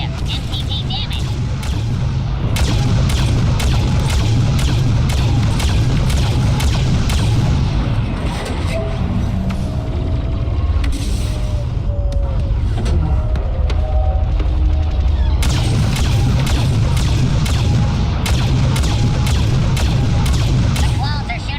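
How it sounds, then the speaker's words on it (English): Blaster fire and explosions rattle through a Star Wars Battlefront II battle on Kashyyyk as clones shoot at a transport, with dense rapid shots, booming thuds and a constant loud battle din. "The clones are shooting a transport."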